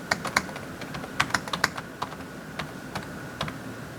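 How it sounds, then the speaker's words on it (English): A name being typed into a search box on a computer keyboard, with a quick, irregular run of close, crisp key clicks followed by a few sparser taps. "So I'm typing his name in the search box"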